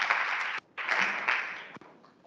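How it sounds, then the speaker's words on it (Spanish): Audience applause breaks out at a university teaching-innovation presentation, a bright burst of clapping that briefly cuts out, resumes, then fades. "¡Aplausos!"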